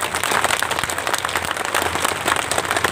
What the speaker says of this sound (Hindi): तो इसलिए आप लोगों के लिए बहुत जोरदार तालियां अपने लिए बजाइए।